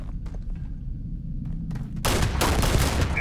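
Bursts of gunfire and turret shooting in Starfield start as scattered thumps under background din, then erupt into a loud, dense barrage of rapid shots for the last second or so.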